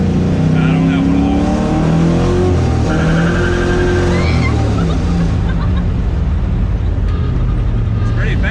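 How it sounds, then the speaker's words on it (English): A race car revs hard and accelerates with its tires spinning. The engine is loud and close, with rising and falling harmonics and wind-like rush, and voices talk over part of it. "Yeah, I was spinning the tires."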